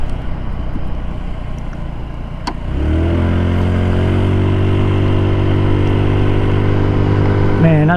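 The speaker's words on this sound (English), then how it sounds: "Man, I love this scooter right here." An Icebear Hawkeye 150cc scooter on a country ride: quiet rushing at first, then the engine rises into a steady, droning hum that holds close and loud to the end.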